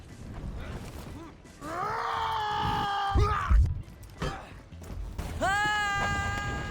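Two drawn-out, strained screams from a For Honor character falling off a ledge, each rising and held, separated by clattering thuds and game ambience.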